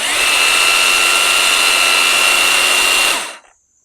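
A Wild Badger Power 40V cordless trimmer runs at a steady high-pitched whine from close by, then spins down sharply to silence once the trigger is released.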